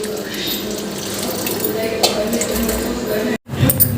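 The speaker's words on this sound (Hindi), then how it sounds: "थोड़ा सा पानी भी डालता है" Water pours from a rinsed milk pot into a cooking pot of milk with cashews and almonds, a close, steady splashing that runs under someone talking and briefly cuts out near the end.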